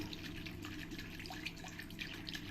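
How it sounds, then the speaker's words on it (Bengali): Water poured into a pan of katla fish kaliya masala, a soft, steady trickling and splashing that stays faint and even throughout. "এবার আমি জল দিয়ে দেবো"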